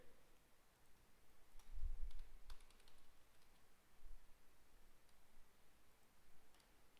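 Keys on a computer keyboard are typed during graphic design software work with the pen tool, heard as faint, sparse clicks in a quiet room with no talking.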